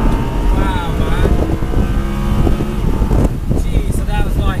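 An Audi R8 V10 engine revs hard toward nearly 9,000 RPM, a loud, sustained rising howl with rough, coughing texture at first, recorded close up amid wind noise, with voices talking over parts of it.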